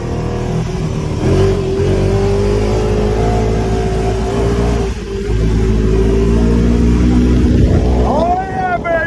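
An ATV engine runs steadily and loudly at close range throughout, with a sustained engine tone that rises near the end as the throttle opens; a voice speaks over it.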